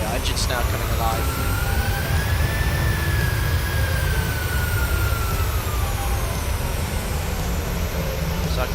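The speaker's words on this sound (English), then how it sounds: "There we are, engine's now coming alive." A PMDG 737 jet engine spins up at start in Microsoft Flight Simulator, giving a steady, loud roar with a high whine that slowly rises and then eases across the whole stretch.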